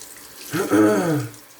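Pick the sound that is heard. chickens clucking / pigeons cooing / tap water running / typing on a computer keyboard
tap water running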